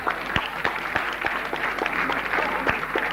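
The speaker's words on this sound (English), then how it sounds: "Give it a big round of applause, please." An audience at an award presentation claps in a brisk, moderately loud round, with separate sharp claps standing out from the crowd and faint voices underneath.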